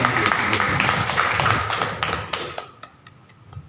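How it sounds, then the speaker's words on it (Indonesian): An audience claps for the teachers at a school curriculum session, with a burst of applause under a talking voice that thins out into a few scattered, fading claps. "Tepuk tangan untuk Ibu-ibu."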